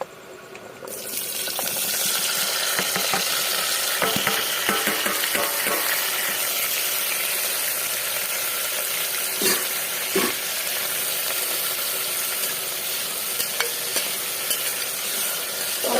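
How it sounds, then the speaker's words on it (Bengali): Chopped vegetables hit hot ghee seasoned with bay leaf and white cumin, bursting into a loud, dense sizzle that holds steady, with scattered clinks and scrapes of stirring in the pan. "এবারে কেটে রাখা সবজিগুলো আমি সব দিয়ে দেবো।"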